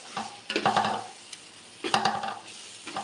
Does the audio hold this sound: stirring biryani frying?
yes